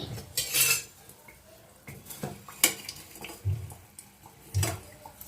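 Metal utensils clink and scrape against a pan while fried samosas are lifted out, giving a handful of sharp, close taps and clatters with quiet gaps between them.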